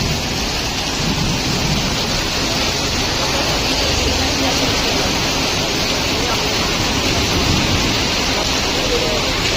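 Heavy rain pouring down at a beach during a storm: a dense, continuous, loud roar of falling water with no letup.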